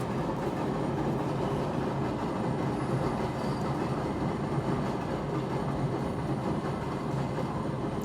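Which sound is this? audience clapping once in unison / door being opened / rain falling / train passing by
train passing by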